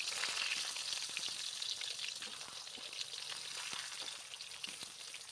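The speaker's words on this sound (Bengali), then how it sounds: "বেগুনগুলো একটু ভালো করে ভেজে নেব।" Eggplants frying in hot mustard oil in a wok, a steady bright sizzle and crackle with scattered sharp pops, close and continuous with no voices.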